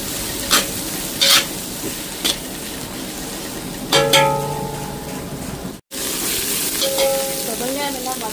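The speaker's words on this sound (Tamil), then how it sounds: "இப்போ இதெல்லாம் நல்லா வதங்கட்டும்." Green chillies and curry leaves sauté in a pan with a loud, close sizzle, punctuated by several sharp stirring scrapes and clinks over continuous frying.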